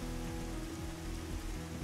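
Rain falling in the video game Dig or Die, a dense, quiet, even patter with a low rumble beneath it that holds steady throughout.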